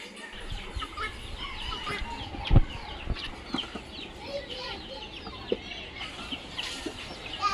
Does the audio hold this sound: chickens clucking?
yes